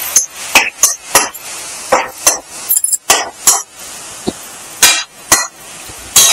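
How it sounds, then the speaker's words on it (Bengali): A spoon clanks and scrapes around a kadai while onion, grated tomato paste and spices are mixed for a rohu fish masala, giving loud, close, irregular metallic knocks and clinks in quick succession. "এই সব উপকরণগুলোকে দিয়ে আমাকে আবারও ভালো করে"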